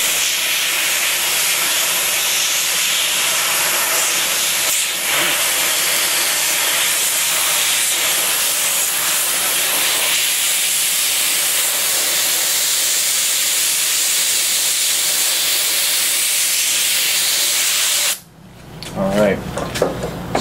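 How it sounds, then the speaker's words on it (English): Compressed air blows steadily across a 3D-printed resin splint, a loud, continuous broadband hiss lasting most of the span before stopping abruptly, followed by brief handling noise. "So I'm going to use compressed air for this case."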